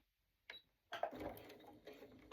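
Sewing machine stitching strips of jelly roll fabric for a rug, a short mechanical burst followed by a longer steady run of rapid stitching, close and moderately loud.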